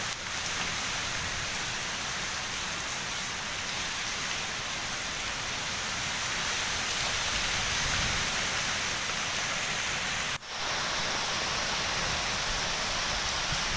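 Heavy rain pouring down with wind, a dense, steady hiss of drops close and constant, broken by one brief dip near the end.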